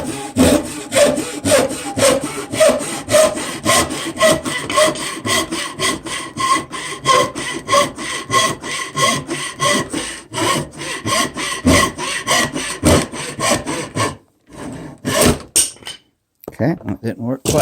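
A hand saw cuts wood to make rulers, steady rhythmic rasping strokes close by, with a few brief pauses near the end and speech mixed in.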